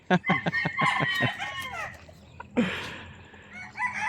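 Game fowl on a backyard farm in Ilocos Norte cluck and crow close by, one rooster giving a loud drawn-out crow among quick clucks and squawks.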